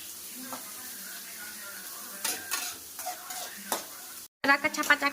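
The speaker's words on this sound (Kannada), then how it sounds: "ಇದನ್ನ ಚೆನ್ನಾಗಿ ಫ್ರೈ ಮಾಡ್ಕೋಬೇಕು." Food frying and being stirred in a pan, a steady close sizzle broken by scraping stirs and clatters, with a brief cut and louder clattering near the end.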